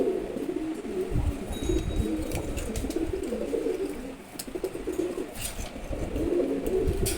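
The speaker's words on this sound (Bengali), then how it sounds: "খুবই অ্যাক্টিভ একটা নর কবুতর।" Low, throaty cooing of a male pigeon repeats steadily throughout, close by, over a soft background hum with a few faint chirps.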